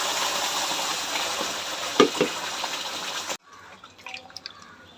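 Ground paste sizzles in oil and butter in an uruli, with a close, steady hiss and a few clinks of stirring. It then cuts abruptly to quieter, sparse bubbling and scraping.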